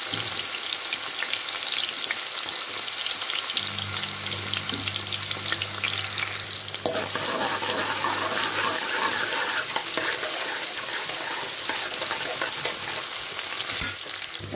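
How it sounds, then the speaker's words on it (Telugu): Green chillies and onion pieces fry in oil in a pan, making a loud, continuous sizzle with stirring scrapes and a sharp clatter near the middle and end. There is no talk. "ఇప్పుడు పచ్చిమిరపకాయ ఉల్లిపాయ ముక్కలు వేసి వేయించేసుకోవాలి."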